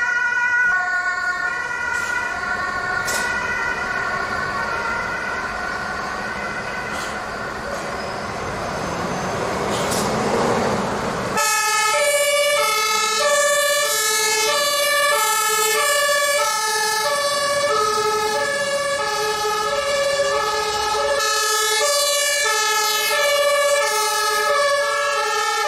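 A loud, continuous German fire truck siren with a steady two-tone pattern, after a stretch of rumbling vehicle noise, rising and falling in a regular alternating rhythm.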